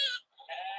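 A toy's recorded goat bleat plays twice in quick succession, a short nasal cry followed by a longer wavering one, close and clear with no talking.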